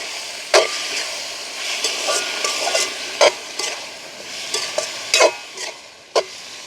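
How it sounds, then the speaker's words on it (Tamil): Chopped tomatoes with onion and green chilli sautéing in a pan in a village kitchen: a continuous light sizzle with periodic sharp spatula scrapes and knocks against the pan, close and clear, with no talking. "தக்காளி பழம் நல்லா வதங்க வேணுமாங்க"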